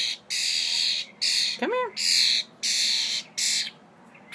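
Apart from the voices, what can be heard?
pet bird chirping and squawking while eating off a finger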